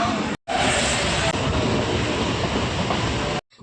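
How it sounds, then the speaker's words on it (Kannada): A train rumbles into a railway station, a loud, continuous roar with grinding rail noise lasting several seconds between brief silent cuts, close by and without talk. "ಸೊ ಟ್ರೈನ್ ಬಂತು ನಮ್ಮದು ಇವಾಗ"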